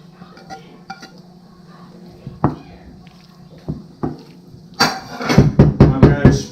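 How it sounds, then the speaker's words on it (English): Mushrooms being stirred into a hot pan for a green bean casserole, with scattered utensil scrapes and clinks against the pan, building to a busier run of clattering stirring near the end; a voice talks over parts of it. "back on the heat, and we're going to mix in the mushrooms"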